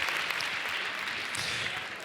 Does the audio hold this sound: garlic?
no